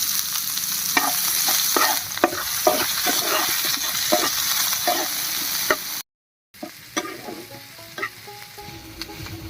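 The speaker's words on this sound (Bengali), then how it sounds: "তেল গরম হয়ে গেছে, তেলের মধ্যে দিয়ে দিচ্ছি 2টো শুকনো লঙ্কা, 2টো তেজপাতা।" Chopped onion, two dried chilies and two bay leaves fry in hot oil with a loud steady sizzle and rhythmic stirring clacks, broken by a brief silent gap, then quieter frying.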